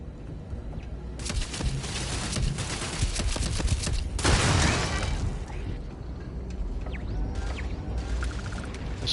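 A turret firing in Starfield: rapid mechanical bursts of gunfire come in dense volleys, one longer loud burst in the middle, with clanking mechanism sounds and intermittent shots continuing after.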